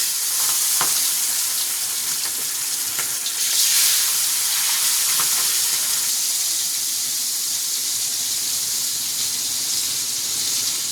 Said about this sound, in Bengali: এগুলো 2-3 বার উল্টে দিয়ে ভালো করে ভেজে নিয়েছি